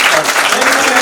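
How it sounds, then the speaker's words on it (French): Guests at a civil wedding ceremony for a couple named Massamba break into a dense, steady burst of clapping that fills the whole moment, with voices mixed into the noise. "Applaudissez pour lui."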